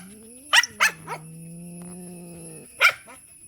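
A dog gives two sharp barks, then a sustained low growling hum for over a second, then one more bark, all close and alone.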